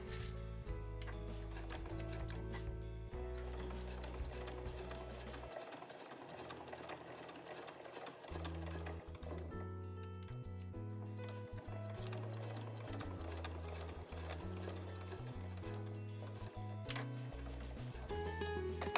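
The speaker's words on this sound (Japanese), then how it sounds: "そしたらこの際を縫います。" A sewing machine runs steadily and close up, stitching along the edge of a small Marimekko cotton cosmetic pouch, its motor hum and rapid needle ticking continuing with brief changes in pace.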